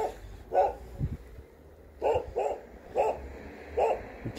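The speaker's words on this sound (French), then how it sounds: "Il y a un chien qui arrête pas de nous aboyer dessus" A dog in a forest barks repeatedly, about five sharp barks in irregular bursts at moderate distance, with quiet outdoor background between them.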